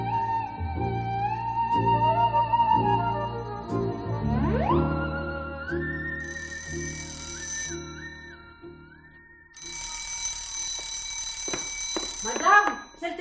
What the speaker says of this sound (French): Madame, c'est le téléphone.